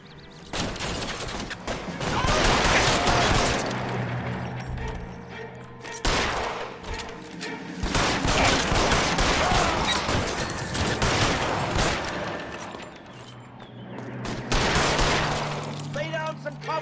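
Bursts of gunfire in L.A. Noire during a fight with military police, rapid volleys clustering in waves with brief lulls around six and twelve seconds, loud and dense throughout.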